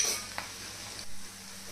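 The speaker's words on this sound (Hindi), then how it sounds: "तो मैंने स्लाइस करके प्याज काटे हैं, तो अभी हम इनको भी फ्राई करके निकाल लेंगे" Sliced onions fry in a pan, a soft steady sizzle with a couple of quick scraping stirs of a utensil against the pan, close and moderately quiet, without talking.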